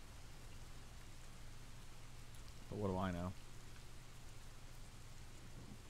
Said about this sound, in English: This rain is simulated, just so you guys know.